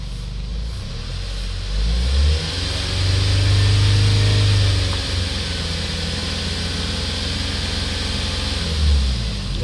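A Hyundai Starex D4CB diesel engine with a blowby problem runs close by, idling steadily and then revving in two swells, rising loud around the middle and again near the end.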